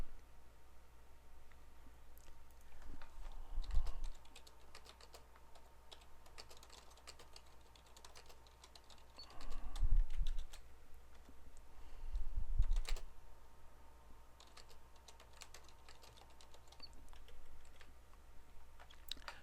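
Fingers type on a computer keyboard in steady, soft clusters of clicking keystrokes with short pauses, close but quiet over a faint room hum, with a few louder thumps and no talking.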